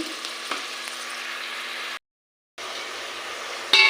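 Sliced onion sizzles in hot oil with turmeric and salt, a steady, even hiss that drops out briefly midway and then resumes, ending with a sharper clatter; no voices.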